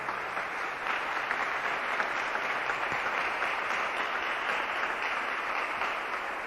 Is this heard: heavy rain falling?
no